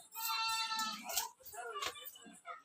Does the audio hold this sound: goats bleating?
yes